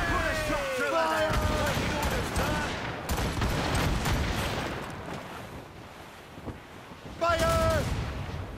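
Naval cannons boom in repeated volleys during a sea battle in Assassin's Creed Rogue, dense and loud across the whole stretch, with shouted voices, ocean surf and game music layered over the blasts.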